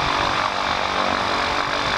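A biplane's propeller engine drones steadily and loudly at an airfield, a continuous broad roar with no breaks.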